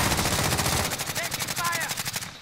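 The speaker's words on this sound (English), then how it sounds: "Taking fire." Rapid automatic gunfire in a video game, loud, continuous rhythmic bursts close up for the whole stretch, fading at the very end.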